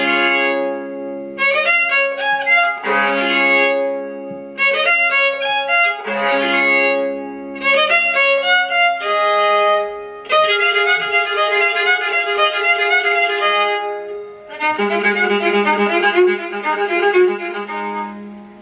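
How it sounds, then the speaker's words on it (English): A newly built viola d'amore modeled after Carcassi instruments, bowed in a series of rich, resonant phrases and chords with short pauses between them, then longer sustained double-stopped passages, heard alone and close. "this is my new viola d'amore"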